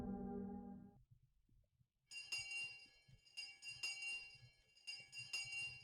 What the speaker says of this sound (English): we heard a bell far away, marking the end of our lunch break